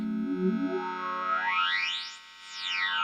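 Sustained synthesizer drone with a rich stack of harmonics from a modular synth's bandpass output through Make Noise QPAS and Mimeophon modules, a filtered sweep gliding upward then back down, phasing and shifting through effects.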